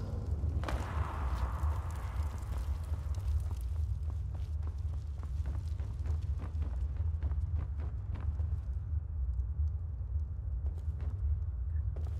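Horse hooves clop at a steady walking rhythm in Skyrim SE, moderately faint over a constant low ambient rumble, the footfalls continuing evenly throughout.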